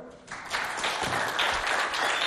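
An audience at a school quiz competition breaks into applause that starts abruptly and holds as a loud, steady wash of clapping to the end.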